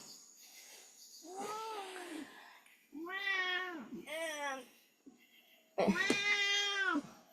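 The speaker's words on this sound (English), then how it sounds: "We have a kitty." A cat meows several times, drawn-out cries with short pauses between them, fairly close and clear over a quiet background.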